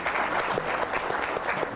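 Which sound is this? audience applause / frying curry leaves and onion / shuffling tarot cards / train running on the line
audience applause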